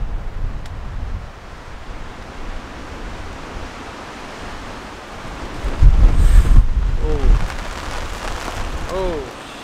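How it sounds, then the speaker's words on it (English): Strong wind gusts roar against a tent at a campsite during a rainstorm, a steady rush that surges louder partway through, with a few brief faint vocal-like sounds near the end. "there is some huge wind gusts coming through. Every now and then it just gets stronger and stronger."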